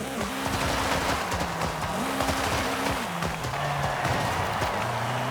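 A drag-tuned race car on drag tires accelerating hard in Forza Horizon 5, its engine climbing through repeated gear shifts with tire noise, loud and continuous, with no talk.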